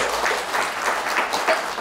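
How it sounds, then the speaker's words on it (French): Crowd at a political congress claps steadily and briskly, a dense burst of applause heard alone for a moment. "je lis la foule, je vous applaudis"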